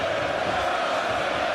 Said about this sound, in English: Daniels getting an earful from the Manchester crowd here, trying to silence him.